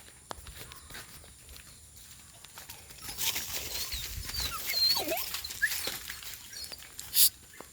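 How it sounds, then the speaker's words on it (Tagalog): Three pet dogs rush over to greet their owner as he returns home from work. Their paws scrabble and patter close by, with faint whines and a sharp yelp near the end. "Kasalubong naman yung mga aso ko."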